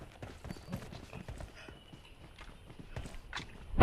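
Horse hooves clip-clop in the BGMI battle royale game, a steady rhythm of light thuds with faint background noise and a sharp louder hit at the end.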